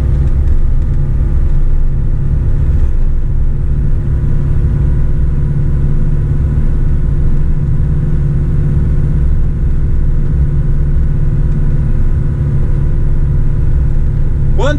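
A vehicle engine-braking on the long descent of the Serra do Purunã mountain road in Paraná, a loud, steady low rumble of the engine held under load, with continuous road noise throughout.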